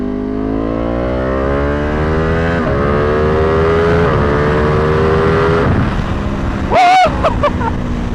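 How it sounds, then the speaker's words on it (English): A tuned Ducati Panigale V2 with its 955cc two-cylinder engine drones steadily on a street ride, its exhaust pitch rising and falling through gear changes, then a sharp rev blip near the end, loud and close. "at the same time it's a Ducati, so it still has an exotic exhaust note"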